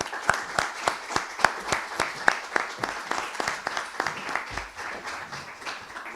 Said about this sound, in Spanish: vamos a darle un aplauso a Ramón Galindo